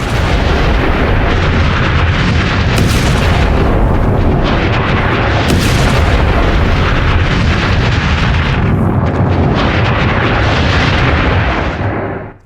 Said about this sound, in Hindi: उसके बाद देखिए कैसे यहां धमाका हुआ